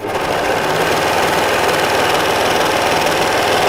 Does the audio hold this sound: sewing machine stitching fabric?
yes